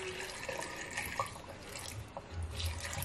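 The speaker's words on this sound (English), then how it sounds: "I'm going to add water, a little bit of water into this thing" A little water is poured into a blender while cassava starch is being made, giving a close, steady splashing and trickling that runs throughout without talking.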